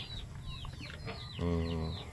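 Chickens clucking and stirring about nearby, with a steady low hum and busy farmyard noise running throughout.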